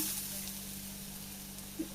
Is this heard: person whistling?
no